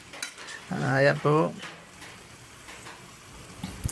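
Lechon kawali being stirred into adobong labong in a pan, with a few soft utensil scrapes and clinks under brief speech.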